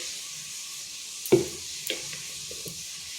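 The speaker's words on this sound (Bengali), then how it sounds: "এখানে একটা কড়াই বসিয়েছি এরপর দিয়ে দিচ্ছি সরষার তেল" Mustard oil heating in a wok on the stove produces a steady faint hiss, broken by a sharp metallic clank and a couple of lighter knocks, close by.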